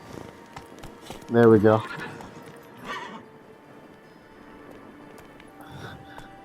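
Roach the horse in The Witcher 3 gives a loud whinny with hoofbeats, followed by fainter snorts and movement, while someone speaks briefly.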